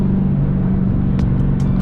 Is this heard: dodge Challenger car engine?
yes